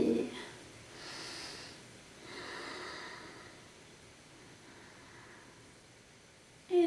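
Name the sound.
breathing in and out during yoga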